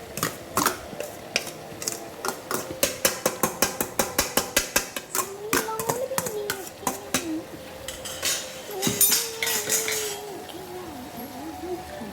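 Vegetables being stirred into partly cooked rice in a pot for veg pulao, a rapid series of metallic spoon-on-pot clinks and scrapes, close and rhythmic, with a voice talking faintly over the latter half.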